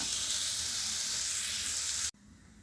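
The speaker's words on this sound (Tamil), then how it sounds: "நம்ம இப்போ தாளிக்கலாம்" Spices temper in hot oil with a loud, steady sizzle and hiss that fills the clip, then cuts off abruptly, leaving a quieter background hum.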